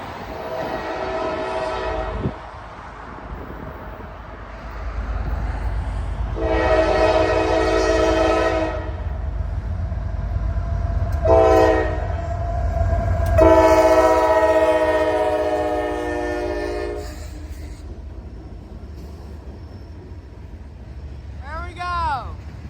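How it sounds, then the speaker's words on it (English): A Norfolk Southern intermodal freight train rumbles past with heavy, continuous wheel and engine noise, its air horn sounding several loud blasts: one brief, then two long sustained ones, close by and dominant over the rumble. "We're gonna have an intermodal train meet here."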